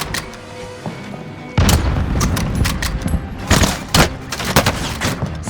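Gunfire in a battle royale video game's Rebirth mode: a dense barrage of sharp shots and booms after a quieter opening second, with repeated bursts through the rest of the clip.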